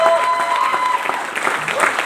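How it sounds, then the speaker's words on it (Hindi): A brief burst of audience applause at a motivational gathering, moderately loud and dense, with a voice briefly audible over the clapping. "ताली होनी चाहिए विजय के लिए।"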